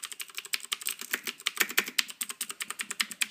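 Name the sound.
typing on mechanical keyboard with Cherry MX Green switches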